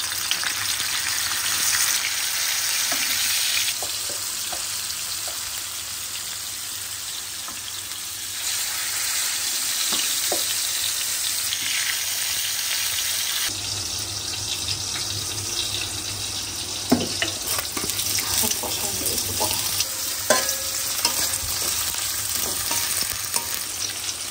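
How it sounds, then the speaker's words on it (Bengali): Fish fries in hot oil in a pan, a loud continuous sizzle lasting the whole stretch, with occasional sharp pops and clinks of utensils and a faint running-water hiss in the background. "তেলটা গরম হয়ে গেলে মাছগুলো আগে ভেজে নিব হালকা করে"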